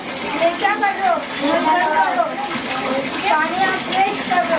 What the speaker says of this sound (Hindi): पानी आप वेस्ट कर रहे हो, इसे बंद करो।